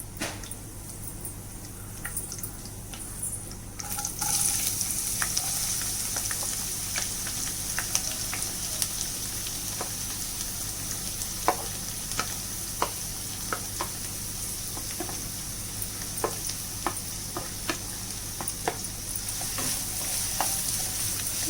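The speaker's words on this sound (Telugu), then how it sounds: "ఆనియన్స్ బాగా వేగేదాకా వేపేసుకున్నాం" Onions frying with green chilies in a pan for an amaranth leaf and tomato curry, a steady broadband sizzle with intermittent scraping stirs and small pops, close and continuous without talk.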